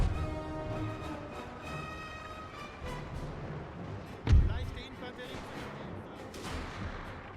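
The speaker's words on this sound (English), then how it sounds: "Artillery still flying in, doing good work." Distant musket volleys and artillery fire on a Napoleonic battlefield in Napoleon Total War, a low rumbling backdrop of scattered shots with one sharp, heavy cannon boom midway, under a speaking voice.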